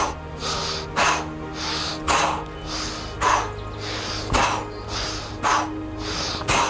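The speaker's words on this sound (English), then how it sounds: "I wanna hear you breathe like really swiftly." Quick, forceful exhales in a steady series during a punching workout, each sharp breath bursting out roughly every second over a low background hum, with no talking.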